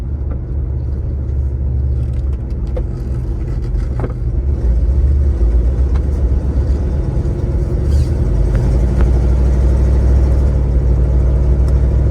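A Chevrolet Chevelle SS with a 325-horsepower 396 V8 and Turbo 400 automatic drives along, its steady low engine rumble loud and continuous with road noise and no talking.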